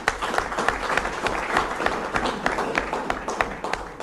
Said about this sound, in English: we should really give him another round of applause